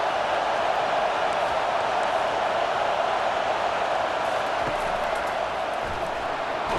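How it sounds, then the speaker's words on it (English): A big stadium crowd roars at a Clemson versus South Carolina football game, a dense, loud, sustained wall of cheering that holds steady throughout. "Decibels rising as the crowd gets behind this defense on third down."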